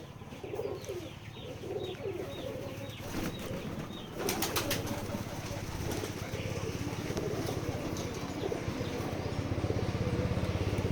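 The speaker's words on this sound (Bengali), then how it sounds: "এই হচ্ছে আমাদের কবুতরের খামার" Pigeons coo in soft repeated calls at a pigeon farm in Betikhola village, Keshabpur, Jessore, in the evening, with a burst of wing flapping and a low engine drone building in the background.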